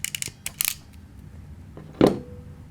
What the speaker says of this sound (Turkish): Sonra makasla sıkıyoruz. Böyle kablo uçlarını eziyor.